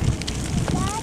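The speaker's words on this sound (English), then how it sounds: "I wanna say sorry for the wind here." Gusty wind buffets the microphone outdoors in a seaside park by an old cannon, a steady low rumbling roar through the whole second with no talking.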